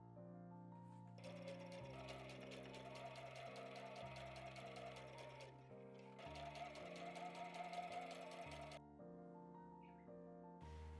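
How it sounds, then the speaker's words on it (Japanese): A sewing machine stitches along the edges of quilt batting for a shoulder bag: two long, steady runs of rapid needle chatter over a humming motor, separated by a brief pause and ending in a short stop, quiet and close. "縫うのはキルト綿の端を縫います。"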